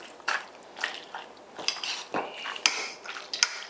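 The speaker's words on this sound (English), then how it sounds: "I'm gonna mix all that together." Fajita marinade of minced garlic and lime juice being stirred in a bowl, with close, irregular clinks and scrapes of a utensil against the dish over a few seconds, no voices.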